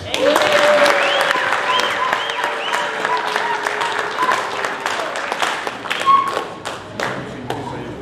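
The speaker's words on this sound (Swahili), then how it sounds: "Pigia watu makofi mzuri." A congregation at a cathedral music Sunday claps for a church choir, a full burst of applause that starts loud and slowly thins over several seconds, with scattered voices underneath.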